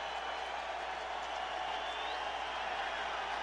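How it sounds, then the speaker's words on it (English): Stadium crowd at a Raiders versus Jets football game, 2009, roaring steadily as a quarterback comes onto the field, a broad sustained wash of cheering with no break across the whole stretch. "The crowd cheers."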